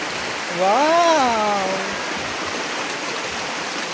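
Water runs steadily at a spring where people fetch water, a continuous close rushing flow; a voice briefly exclaims over it.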